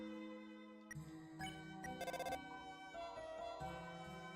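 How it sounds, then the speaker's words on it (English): Electronic phone ringtone from the video game Deltarune, a bright chiming melodic tone repeating in short bursts with a quick trilled flutter midway, clear and alone without talk. "The phone kept ringing infinitely."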